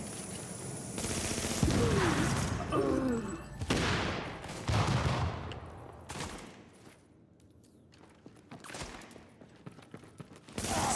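Enemies in The Division open fire with rapid volleys and sharp bursts of gunshots, loud and close, thinning out to sparse distant shots before picking up again at the end.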